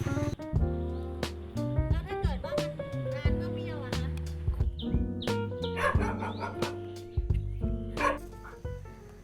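Thai Ridgeback dogs from Trat province barking in a loose, overlapping chorus of bow-wows, yips and whimpers, close by and fairly loud, with a voice speaking faintly now and then.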